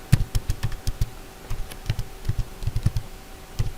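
Typing a docker login command on a computer keyboard: a steady run of close, crisp key taps with short pauses between bursts.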